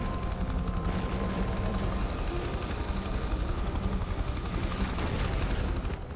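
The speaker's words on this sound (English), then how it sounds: "That rocket just went right under the chopper." Dense, continuous battle noise from the video game Prototype 2: a helicopter's rotor drone mixed with steady gunfire and rocket blasts, loud and unbroken throughout.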